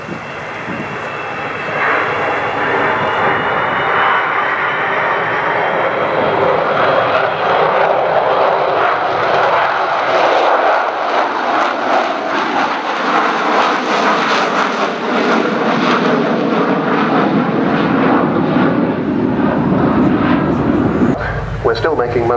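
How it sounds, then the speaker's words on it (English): An Avro Vulcan XH558 bomber makes a low, slow, wheels-down flypast at an airshow, its engines a loud, continuous broadband roar that swells and shifts in pitch as it passes, with a commentator's voice running over the top. "wheels down fly past."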